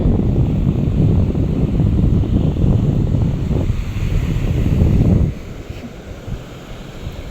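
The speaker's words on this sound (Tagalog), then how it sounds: "Malakas po ang alon ngayon." Strong sea waves at a beach on a drizzly day, a heavy, continuous roar with gusting wind buffeting the microphone, which drops abruptly to a quieter wash near the end.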